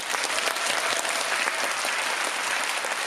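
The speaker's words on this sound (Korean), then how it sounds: "큰 박수 부탁드립니다." Dense, steady audience applause for young ballerinas after a children's opera performance of Hansel and Gretel, loud and continuous from many hands with no talk over it.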